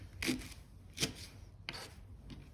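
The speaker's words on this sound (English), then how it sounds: "Place the flat side down on the chopping board, hand as a bridge, and cut into the half moons." A few separate knife chops cut a vegetable into half moons on a chopping board, four crisp strikes spaced unevenly, close and fairly quiet.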